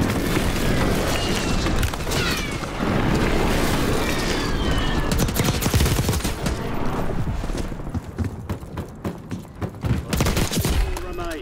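A precision airstrike pounds the map in Call of Duty Warzone Black Ops 6, with heavy booms and a dense, continuous roar of explosions and gunfire that runs loud throughout, thinning slightly near the end.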